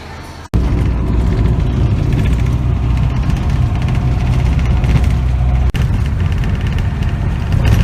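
A bus engine idles at a small, crowded bus station, a loud, steady low rumble that holds continuously with only brief dropouts.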